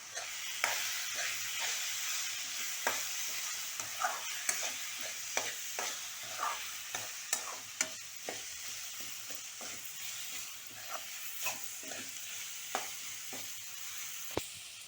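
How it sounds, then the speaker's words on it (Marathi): Turmeric being stirred into a sizzling pan for methi muttar malai, a steady frying hiss broken by repeated spoon clinks and scrapes at an uneven rhythm, close by and without talk. "त्याला हलवून घेऊया"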